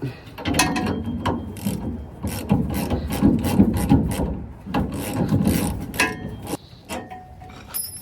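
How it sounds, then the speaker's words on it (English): A ratchet wrench clicks in quick bursts of turning strokes on the rear suspension of a 1998-2004 Toyota Tacoma, close and loud, with brief pauses between passes. "you could switch right back away to the ratchet"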